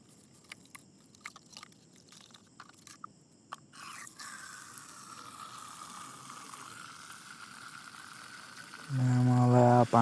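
Tap water runs into a plastic bottle being filled for a guppy fish tank, starting with scattered clicks and light handling, then a steady hiss of pouring that ends in a loud gushing surge.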